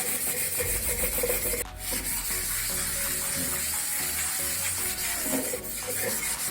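An iron griddle scrubbed with a plastic tablet-strip cover: a continuous harsh rubbing and scraping close by, with a brief louder scrape partway through and no talking.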